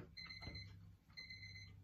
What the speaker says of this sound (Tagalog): Nag-alarm na po ng 2 minutes po.